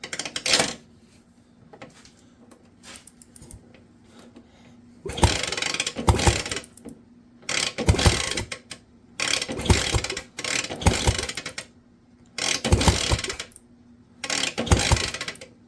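Repeated kick-starting of a 1966 Puch Allstate motorcycle: about six separate bursts of ratcheting mechanical clatter, each a second or so long, with quiet pauses between them and no engine catching.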